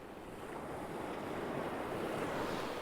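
Waves break and wash onto a sea edge in a steady, broad rush of surf, close and continuous, mixed with wind noise against the microphone and no voices.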